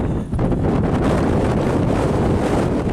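Strong wind buffets the microphone at Whitby Abbey, a loud, continuous roaring rush with gusty swells and no voices.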